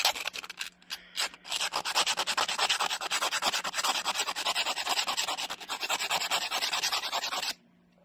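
A Yamaha DTR 125 engine part, rebuilt to 170, rubbed by hand with a folded abrasive, giving a close, rhythmic scrubbing rasp of rapid back-and-forth strokes that stops abruptly near the end.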